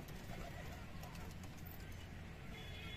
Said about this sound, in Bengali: এই যে বাদবাকি সব পায়রা ওয়েট করছে কখন খেতে দেবো